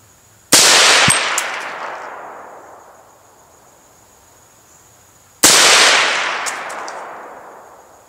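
Two loud, sharp M1 Carbine rifle shots fired at a target 300 yards away, spaced about five seconds apart, each with a long ringing decay in open air.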